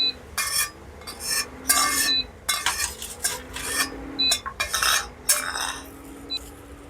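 A metal spoon scrapes and clinks against a pan while roasted cashews are scooped out of hot ghee, giving irregular bursts of scraping with a faint sizzle beneath.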